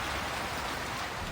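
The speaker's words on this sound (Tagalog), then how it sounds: "Umalakas ang hangin at ulan." Heavy typhoon rain and strong wind batter Baguio in the Philippine highlands, a dense, unbroken roar of wind-driven downpour from start to finish.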